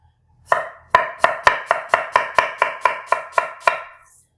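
A kitchen knife chops through an onion on a cutting board in about a dozen quick, evenly spaced strokes, close and crisp, with no talking.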